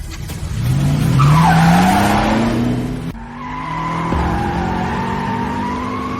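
A car tears away with loud, sustained tire squeal, rising engine pitch, then continued skidding as it speeds off in a tense street scene.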